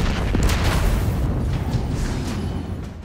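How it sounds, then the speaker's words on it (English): A big explosion goes off in the shooter game Destiny 2, a dense booming rumble that decays over a few seconds with no talk. "Boy, you made a big explosion."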